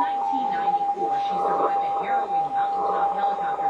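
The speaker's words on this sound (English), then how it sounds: "I tune the radio until the two tones are the same." On a modern amateur radio transceiver, a steady CW sidetone sounds together with a received signal tone of matching pitch, a continuous clear beep heard under a voice.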